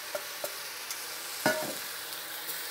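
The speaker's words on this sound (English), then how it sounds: "on high heat, we're gonna stir this around and get all of our meat nice and brown" Venison meat and marinade sear in a hot pan while being stirred, a soft steady sizzle under occasional scraping clicks of the utensil against the pan.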